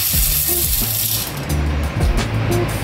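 Half a kilo of sabudana is rinsed in a pot of water, with wet swishing, grainy rattling and splashes at close range, steady and fairly loud, with a faint low hum underneath.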